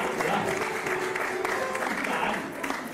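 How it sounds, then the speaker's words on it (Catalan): Dense applause from an audience at a poetry book presentation, a brief, steady round of clapping that holds at an even, moderate level for about three seconds. "un aplaudiment per Sisko"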